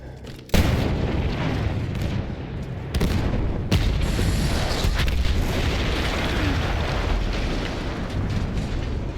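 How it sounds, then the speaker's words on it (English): An explosion in the Battlefield 1 World War I video game bursts in suddenly and loudly, then rolls into a sustained, heavy rumbling roar with further blasts layered on top, and no talk. "That explosion was one of the sweetest sights of the war for me."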